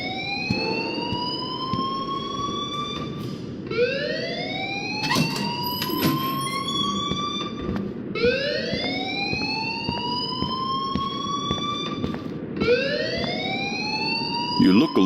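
A fire alarm in the video game Life is Strange sounds in repeated rising electronic whoops, each lasting a couple of seconds, with a busy background and brief bursts of noise between the cycles.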